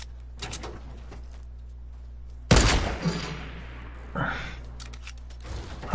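Sniper-mode gunfire in the video game Fortnite: a few sharp shots ring out, one loud crack followed by a short echoing tail, then a softer report, over a low steady background hum.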